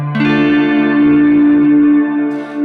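Electric guitar played through a Keeley Caverns V2 delay/reverb pedal with the warmth knob turned up, a sustained chord ringing loud and washed in reverb, with softened pick attack and a long smooth tail.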